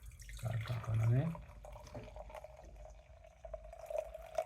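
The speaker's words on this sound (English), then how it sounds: "let's pour it into this massive glass" Tippet's Crow Cider pours into a large glass in a short liquid trickle over a faint background hum, with a brief voice and a few clinks early on.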